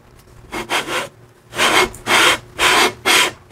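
Harley-Davidson Flathead 80 engine cases are lapped together with oil, metal rubbing on metal in a series of rhythmic back-and-forth rasping strokes, loud and close, with brief pauses between passes.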